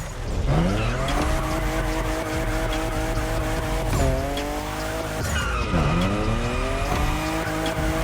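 A fifth-generation Toyota Supra drifts in the racing game The Crew Motorfest, its engine revving in rising and falling sweeps over long, loud tire squeals, repeated several times, with no talking.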